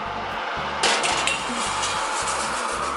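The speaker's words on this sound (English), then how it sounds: "I'm gonna put the bowl in the bottom" A bowl being set into a hot oven for baking no-knead sourdough bread, a single clattering knock with brief rattle against a continuous fan-like hum.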